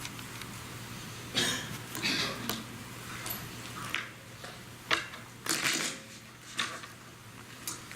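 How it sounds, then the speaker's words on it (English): Several short bursts of riffling and crisp paper flutter as a deck of playing cards is shuffled, separated by quiet pauses, fairly close and soft. "A deck of cards that we shuffle"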